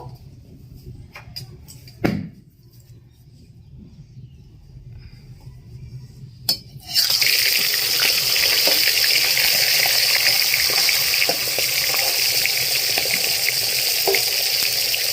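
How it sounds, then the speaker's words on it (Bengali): A fish head drops into hot oil in a pan for a fish-head-with-cabbage dish, and loud, steady sizzling fills the rest of the clip after a few quiet kitchen clinks. "তেল গরম হয়ে গেছে, এবার আমি মাছের মাথা দেব"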